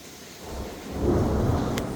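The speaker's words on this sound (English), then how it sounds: "that's thunder." Thunder from a hailstorm rumbles outside, a low roll that swells about halfway through and holds heavy and steady, with rain noise behind it.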